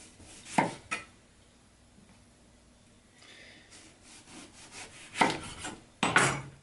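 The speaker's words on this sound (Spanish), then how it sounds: "las vamos a cortar en rodajas" Knife cutting an eggplant lengthwise into rounds about 2 centimetres thick on a board, heard as a few sharp, close chopping strokes with quiet gaps between, no talk.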